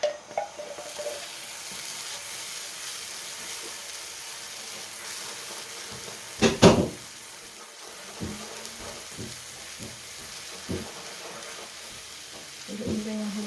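Coconut milk is poured into a hot pan for espasol and stirred, giving a steady hiss and sizzle with a splashy burst partway through and scraping strokes of the spoon, no voices.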